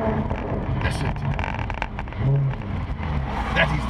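A Maserati GranTurismo S exhaust roars and burbles continuously, loud and close, with rising and falling engine revs and a voice faintly underneath.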